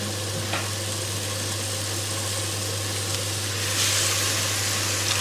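Water goes into a hot pan of vegan holy basil stir-fry with tofu, giving a loud, steady frying sizzle that continues close up without a break.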